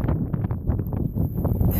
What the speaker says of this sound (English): Ooh, listen to that wind.